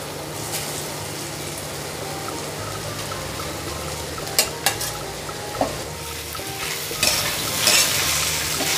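Grated sweet potato sizzling and being stirred in hot ghee in a kadhai, a steady frying hiss with occasional sharp scrapes and clinks of the spoon against the pan, close and alone without talk.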